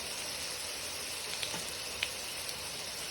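Crushed red chilli dropped into sizzling oil for a fish curry, a soft steady frying hiss with a couple of faint light taps, quiet and close with no voices.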